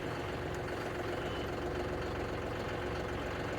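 A tractor engine idles and chugs steadily at close range while hay is being made, a continuous low rumble with a faint knocking pulse and no voices.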